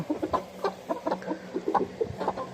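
Several Brahma chickens, including young laying hens, cluck in short, repeated bursts, fairly close and steady, with no voices over them.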